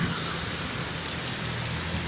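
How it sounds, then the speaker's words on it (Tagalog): Heavy rain pours down in strong wind, heard from shelter during a downpour. A dense, steady, close hiss of rainfall and gusts persists for the full two seconds, with no voices. "grabe lakas ng ulan. Kala mo may bagyo."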